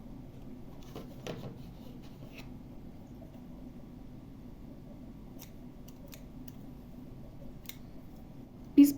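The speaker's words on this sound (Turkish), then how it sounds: "Bu noktada artık ipimi yeteri kadar bırakıp kesiyorum." Scissors snip through yarn at the end of a crochet vest piece: a few faint, short clicks spread out in a quiet room.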